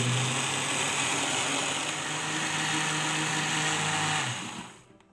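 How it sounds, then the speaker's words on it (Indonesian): An electric blender purees boiled purple sweet potato with a little water, a steady loud whirring motor hum running continuously before winding down in the final second. "Kemudian blender sampai halus."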